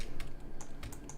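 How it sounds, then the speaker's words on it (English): Computer keyboard keys pressed while working in Blender, a handful of light quick clicks, faint and close, over a quiet background. "You might have to click Z twice on the keyboard"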